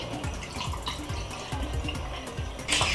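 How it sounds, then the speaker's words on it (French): Water being poured into a pan while making béchamel sauce, a gurgling, bubbling stream with rhythmic glugs, close and moderately loud, ending with a brief splash. "Nous allons mettre de l'eau"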